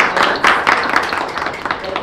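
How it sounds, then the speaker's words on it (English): Audience at an immigration community event applauding, a short burst of moderately close handclaps spread through the room, fading slightly toward the end. "clap for all of that"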